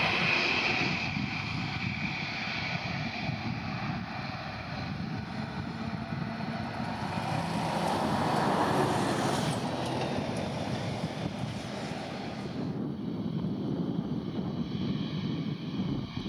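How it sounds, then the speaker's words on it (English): Lufthansa Airbus A321neo jet landing at Lisbon Airport, a steady broadband engine roar that swells around mid-clip as the aircraft passes, then eases into a continuous rumble with no voices. "the Lufthansa Airbus A321neo makes a smooth landing"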